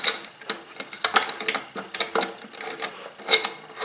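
Boom arm clamp screw spun out beside a machine chuck, giving a close run of quick, irregular metallic clicks and light rattles with no talking.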